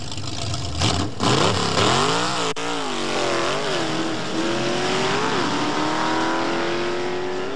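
1970s New Zealand drag racing car revving hard during a pre-race burnout, loud engine notes swooping up and down in repeated blips before settling into a rising sustained roar, with no voices.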